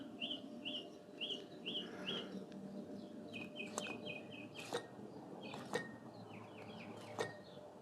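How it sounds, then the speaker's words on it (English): Small birds chirp outdoors in repeated short, bright phrases, some in quick runs, fairly faint against a quiet background, with a few sharp clicks between calls. "Hear the birds? It's wonderful."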